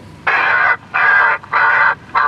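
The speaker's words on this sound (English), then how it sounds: "First one's a rook." A recorded rook distress call broadcast at an airport to scare birds: four harsh, raspy caws in an even series, loud and alone against a quiet background.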